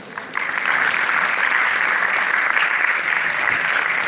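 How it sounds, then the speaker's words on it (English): A conference audience at the Global Waqf Conference at Islamia University of Bahawalpur breaks into sustained applause, a dense, even roar of many hands clapping steadily for about four seconds without speech. "please, audience, welcome Dr. Hassan in your huge round of applause"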